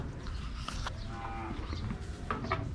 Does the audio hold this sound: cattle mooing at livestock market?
yes